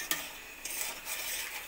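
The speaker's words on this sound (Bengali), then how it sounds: "সমস্ত কিছু একসঙ্গে একটু কষিয়ে নেব।" Potatoes stirred with turmeric, chilli powder and salt in a pan: quiet scraping and clinks of a spoon against the pan over a faint sizzle, close and brief, no talking.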